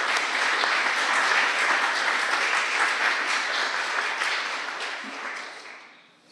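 An audience at an Indigenous knowledge talk applauds to welcome speaker Dr. Jennifer Wemigwans, a dense, sustained clapping from a full room that holds steady and then fades out toward the end.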